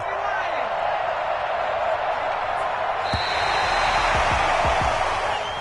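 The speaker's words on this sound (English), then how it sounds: "And the home crowd applauding." A home crowd in an arena at a game applauds and murmurs in a steady, distant wash, with a few sharp thuds and a commentator talking over it.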